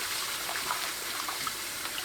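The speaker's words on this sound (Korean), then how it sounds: "깨끗한 물에 흔들어가면서 3-4회 반복해서 씻어주세요." Blanched young radish greens being swished and rinsed in clean water, a steady close splashing and trickling throughout.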